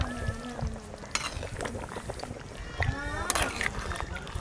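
Garam masala paste is stirred into a bubbling curry of country chicken and yam in a clay pot over a clay stove, giving wet sizzling and sloshing stir sounds with a voice faintly underneath.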